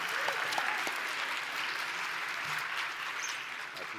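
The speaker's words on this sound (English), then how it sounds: "Give him a big round of applause" Audience at a women's awards ceremony breaks into sustained applause, a dense steady wash of clapping from a crowd that holds at full strength for the whole stretch without pause.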